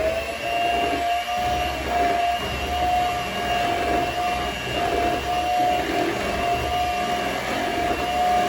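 An electric mixer churns flour into hot milk cake batter, a steady continuous motor whine and rumble running unbroken and fairly loud throughout, with no voices.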